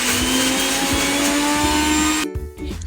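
An electric kitchen mixer whines steadily and loudly while grinding green chilli, garlic and ginger into paste, then cuts off abruptly near the end.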